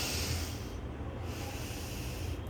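Deep, steady breathing close up, a continuous airy rush with low rumbling noise throughout, briefly easing before swelling again, with no voices.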